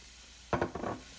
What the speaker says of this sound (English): we're gonna stir until it's sizzling hot